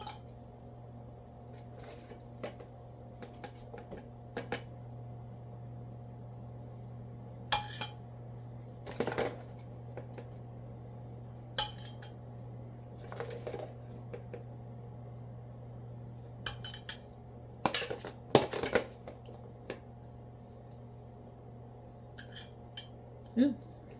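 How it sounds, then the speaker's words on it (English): Food being scooped with a spoon into containers during home meal prep, giving scattered light clinks and scrapes of utensil against dishes over a steady low hum. "I'm gonna scoop some out and put it in one container."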